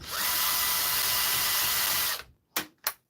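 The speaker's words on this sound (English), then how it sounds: "I'm using a screwdriver in my bag." A power screwdriver runs steadily with a loud, continuous whirr for about two seconds and then stops, followed by two short, sharp bursts as the driver is triggered again briefly.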